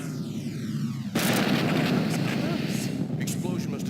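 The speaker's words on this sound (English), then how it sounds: "The explosion must have jarred it into action." In the video game OverBlood, a sudden loud explosion bursts after a falling tone, followed by a sustained rumbling, crackling roar that lingers for a few seconds.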